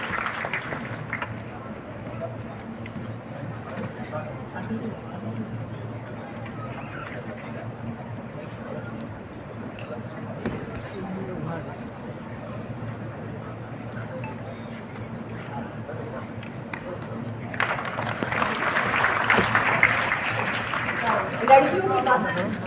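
Audience applause at a Medha Diwas 2023 award ceremony honouring toppers at Gyan Bhawan, Patna, swelling into loud clapping near the end after a long stretch of someone speaking over a hall PA.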